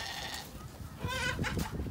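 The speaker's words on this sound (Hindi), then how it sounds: "ये बकरे देख लो," Goats bleat at a Pakistani-run farm in Montreal, Canada, where several goat breeds are penned beside chickens; a couple of wavering bleats sound fairly close over low background noise, with no talking.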